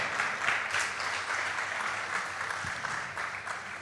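A church congregation claps together during a worship service, producing a steady, dense wash of applause that holds evenly for several seconds, with a faint low hum beneath.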